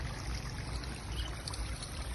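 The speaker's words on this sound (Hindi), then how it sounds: "और देखो यहाँ पे पानी हो रहा है वेस्ट" Water runs to waste from an outlet, a soft continuous trickling rush that stays faint and steady throughout with no talking.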